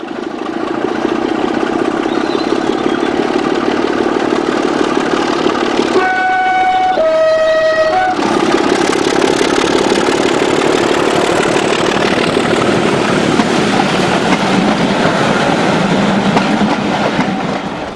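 Class 27 diesel locomotive 001 runs at a gala on the Bo'ness and Kinneil railway, its engine throbbing loud and close, broken midway by two bright horn blasts before the heavy rumble carries on.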